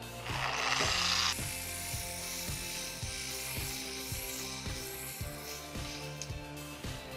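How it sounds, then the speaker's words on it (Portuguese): Car polishing machine running on a vehicle body panel during finishing, giving a steady mechanical whir with a regular clicking rotation pulse, close and continuous. "aumentar a velocidade, o giro da máquina para poder efetivar o acabamento"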